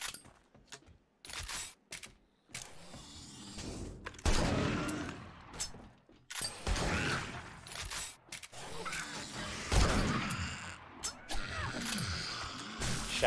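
Bursts of gunfire from the survival video game 7 Days to Die, sharp shots scattered irregularly through the stretch amid game noise and some speech.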